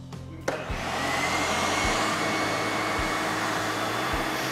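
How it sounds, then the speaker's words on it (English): A vacuum cleaner cleans an Injen Dry SuperNano-Web air filter, starting up with a few clicks and then holding a loud, steady whoosh and whine, broken by faint periodic low thumps. "Vacuum."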